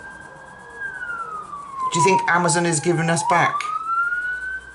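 An emergency siren wails outside, rising and falling as it passes, while someone talks close by over it.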